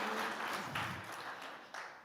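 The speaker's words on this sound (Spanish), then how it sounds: "Démosle un aplauso grande al Espíritu Santo" Faint church congregation applause, a soft wash of clapping that swells and fades over about two seconds, heard from a distance.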